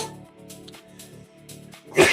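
A person sneezes once, loud and close, at the end after a stretch of quiet low murmuring in a live trading session room.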